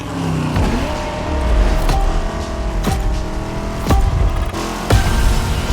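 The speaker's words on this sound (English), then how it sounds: "An old school Shelby Cobra 427." Shelby Cobra 427 V8 engine in the racing game The Crew Motorfest, a steady loud roar with pitch sweeps as it revs and shifts through gears, heard alone without talk.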